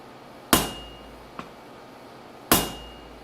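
Two loud hammer blows ring out on a hot bit being forged, with a faint lighter tap between them, each strike sharp and metallic with a short decaying ring.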